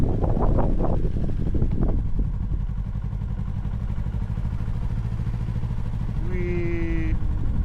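A 2025 Yamaha R3 300cc motorcycle on a test ride, its engine droning steadily under buffeting wind noise, with a brief voice early on and a rising whistle-like tone near the end.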